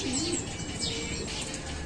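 Soft, low cooing from a dilute-colored pigeon squab close by, with faint chirps and a steady background hiss.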